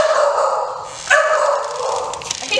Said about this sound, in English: What's the dog's name?